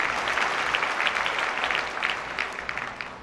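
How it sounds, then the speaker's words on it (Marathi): Steady applause from an audience at a talk show with exam toppers, a dense wash of clapping that holds at even loudness for several seconds with no voices over it. "ते टाळ्या झाल्या पाहिजे"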